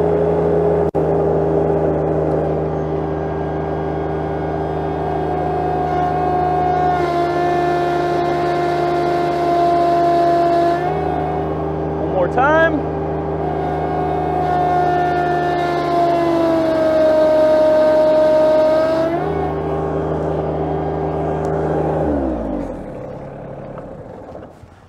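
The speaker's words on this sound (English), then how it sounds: "Run it up to RPM." A Yanmar 424 tractor engine runs up to RPM in low range during a static pull test, holding a loud steady drone with pitch shifts under load before winding down at the end.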